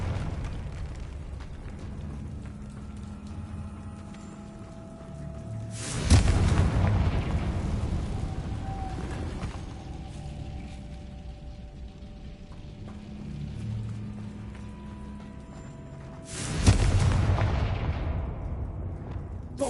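Confringo blasting spell going off in the Hogwarts Legacy video game: two loud, booming explosions about ten seconds apart, each with a heavy rumbling tail that fades slowly beneath a steady background bed.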